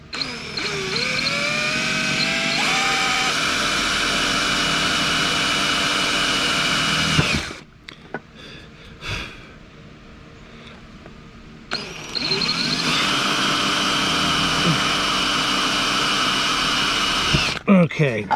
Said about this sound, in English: So let me go ahead and pop a couple holes in here. I got my unibit.